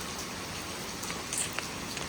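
Steady rain pours down outdoors, a dense even hiss with scattered drops, heard alone and at a moderate level.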